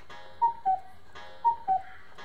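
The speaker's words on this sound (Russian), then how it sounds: "Вот и наш будильник." Alarm clock ringing at 6 am in the horror game Boogeyman: a repeating pattern of two short electronic beeps per cycle, two cycles, clear and moderately loud against a quiet background.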